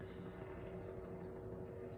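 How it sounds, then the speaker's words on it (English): A far-off helicopter circling overhead makes a faint, steady low drone that neither swells nor fades, with no other sounds over it. "that helicopter, which is so far away, just circling and circling and circling"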